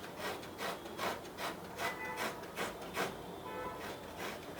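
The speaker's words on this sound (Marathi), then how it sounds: "अशी मी सगळी कैरी किसून घेते." Raw green mango rubbed by hand against a kitchen grater, a steady rhythmic scraping with regular strokes about twice a second, close and moderately loud with no voices.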